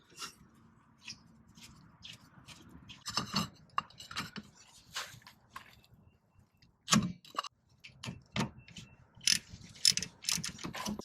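A ratchet works a rusted, stuck brake bolt loose on a Toyota RAV4: sparse, fairly quiet bursts of clicking pawl and metallic clatter spread out with short gaps.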